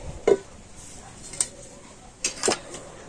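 A lid lifted off a steaming pot of semolina bhapa pitha batter, giving a few sharp metallic clinks and taps close by, spaced over a few seconds against a quiet background.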